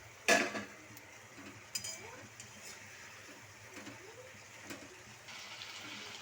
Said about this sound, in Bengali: এটা দিয়ে একটু ভালো করে নেড়ে চেড়ে নেব।